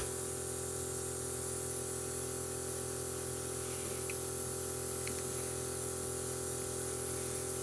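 An airbrush sprays ink onto a Warhammer 40K Vindicator tank model: a steady, even hiss of air runs continuously at close range, with no voices over it.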